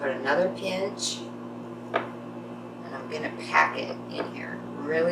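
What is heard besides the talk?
No everyday noises stand out.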